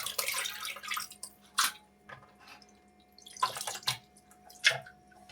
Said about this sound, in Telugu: చికెన్ శుభ్రంగా కడుక్కొనేసి బౌల్లో తీసేసుకోవాలి